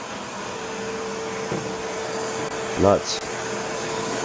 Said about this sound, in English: You can't hear this vacuum cleaner at all, only from the suction.